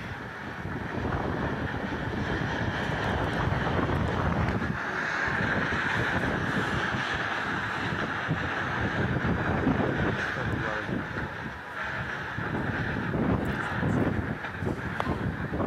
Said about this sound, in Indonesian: angin puting beliung melanda wilayah Kalideres, Jakarta Barat